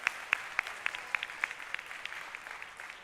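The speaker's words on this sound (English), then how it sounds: "A round of applause for yourselves" Sparse applause from an audience at a spoken word poetry contest final, a handful of distinct claps at a steady rhythm fading over three seconds, fairly faint with no talk.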